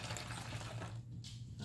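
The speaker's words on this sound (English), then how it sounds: "I'm going to pour the hydrogen peroxide in the bottle" Hydrogen peroxide poured through a small funnel into a water bottle, a steady close gurgling trickle of liquid that runs continuously before thinning out near the end.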